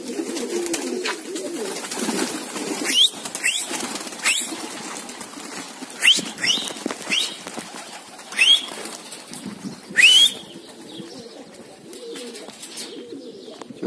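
Racing pigeons burst into flight from a loft in several loud flurries of clapping wings, with soft cooing and scattered chirps between the takeoffs.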